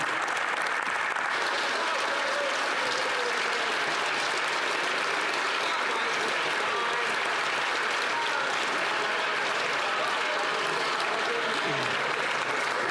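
Sustained, dense applause fills a session of the House of Commons, steady and loud throughout with crowd noise underneath.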